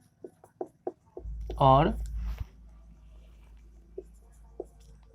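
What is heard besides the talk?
writing out a maths question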